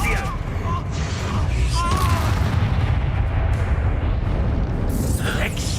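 Spell blasts rumble and boom in a Harry Potter video game, a loud, sustained roar of explosions with voices calling out over the din.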